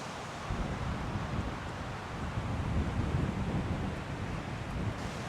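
Strong wind on a golf course roars steadily as a broad, continuous rush buffeting the microphone, with no voices over it.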